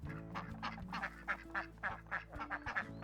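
Cartoon duck in the video game Thingamajigs quacking in a rapid, rhythmic series of nasal honks, fairly faint and heard alone.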